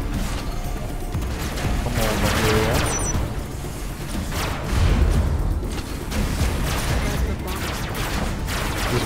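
Heavy plasma guns fire in the Robocraft video game in a dense rapid barrage of booming blasts and mechanical clatter, with a mixed battle din and a louder burst around the midpoint.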